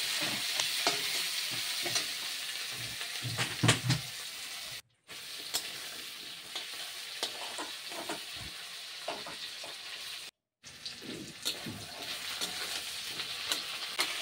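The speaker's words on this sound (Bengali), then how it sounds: "পেঁয়াজটা একটু লাল লাল করে ভাজা হয়ে গেলে আমি আলুটাও দিয়ে দিব, আলুটাও একসাথে ভাজা করে ফেলবো।" Onions and potatoes fry in a pan with a continuous close sizzle, punctuated by scraping stir strokes and two brief silent breaks, with no talking.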